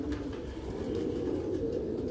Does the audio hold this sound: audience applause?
no